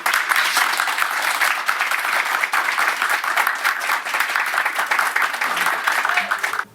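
A live audience at a Brazilian music presentation gives sustained, full applause, a thick and even wash of clapping that runs without a break and then cuts off abruptly.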